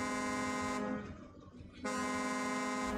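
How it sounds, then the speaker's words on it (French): Truck horn blaring in the off-road driving game SnowRunner: a loud, steady, brassy honk sounds, cuts out for about a second, then resumes and holds to the end, with no talk. "Tu klaxonnes, ça déglingue toute la barrière."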